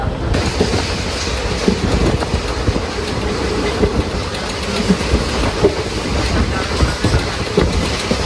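A train running along a Kerala railway line near Punkunnam station, a steady broadband rumble with faint rhythmic clatter of wheels throughout, loud and continuous with no voices.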